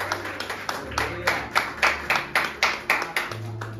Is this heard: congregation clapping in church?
yes